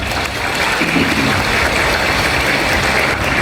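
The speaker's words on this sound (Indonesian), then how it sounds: "tepuk tangan buat Kiai Yahya ini" Dense, steady applause from an audience at a large NU women's gathering in Madura honoring Kiai Yahya, a continuous wash of clapping with no breaks.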